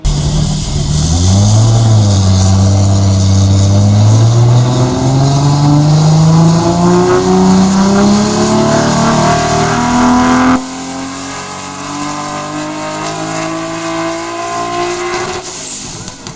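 A car with a Nissan RB26 engine revs hard, its pitch climbing steadily through rising gear pulls before dropping to a lower, steady drone, loud and close with no talk.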